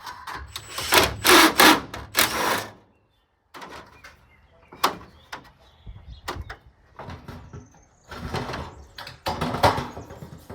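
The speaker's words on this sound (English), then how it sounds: "I'm just going to take these bolts out." Bolts being taken out of a metal garage annex panel, with scattered sharp metallic knocks, scrapes and rattles in irregular clusters separated by pauses, fairly close.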